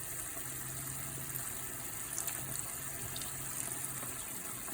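Vinegar pours into pork cooking with shrimp paste as a steady, soft, continuous liquid stream, quiet and close, with no voices.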